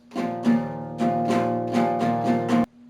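An acoustic guitar strums chords in a steady down-up pattern, five or six bright strokes ringing close and clear before the chord is abruptly muted.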